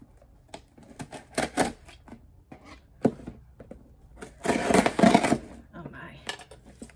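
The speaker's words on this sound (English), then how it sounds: "let's unbox it together with my handy dandy kitchen scissors" Kitchen scissors cut open a shipped product package holding a texture spray, giving scattered crisp clicks and snips with a denser burst of crinkling plastic and cardboard midway, close and fairly quiet.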